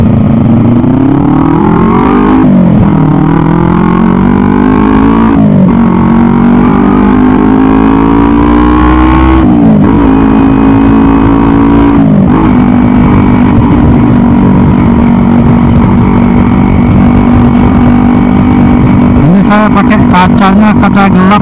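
An automatic scooter pulls away from a traffic light at night, its engine climbing in pitch through several upshifting surges, loud and close, with wind rushing past the rider.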